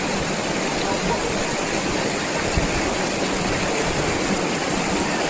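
River water flows in a loud, unbroken rush close to the microphone, a dense steady roar where people and a dog have been swimming, with no clear breaks or separate splashes.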